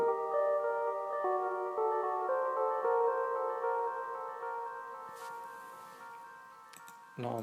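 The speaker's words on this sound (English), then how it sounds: "I'm just gonna start with the melody, which will sound like this." A trap beat melody plays back from LMMS music software, a steady sequence of sustained synth notes stepping through a repeating pattern at even volume, with a short burst of noise and a low thump near the end.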